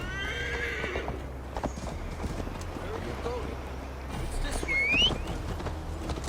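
Horse in Assassin's Creed Valhalla whinnies clearly and trots with steady clip-clopping hooves, under ongoing game dialogue and ambient sound.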